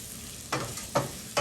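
Shrimp with heart of palm frying in a pan, stirred in three distinct scraping strokes roughly half a second apart over a steady low sizzle.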